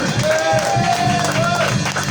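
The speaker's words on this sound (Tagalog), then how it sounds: "Malakas na palakpak sa ating Panginoon" A church congregation applauds during a Sunday service, with steady, dense clapping throughout while a voice carries over it.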